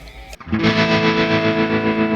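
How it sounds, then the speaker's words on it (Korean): Distorted electric guitar through an Enya Sonic JT tremolo preset holds a sustained note with a rapid pulsing tremolo wobble, loud and close, after a brief clipped attack at the start. "트레몰로 소리군요."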